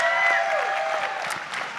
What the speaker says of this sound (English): Thank you for those that are clapping right now